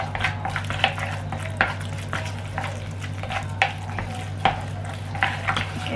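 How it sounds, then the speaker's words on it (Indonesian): Fish paste mixed with corn flour being stirred in a bowl, with soft repeated scraping and squelching strokes in a steady rhythm, close and moderately loud over a low steady hum, with no talking. "Terus kita aduk."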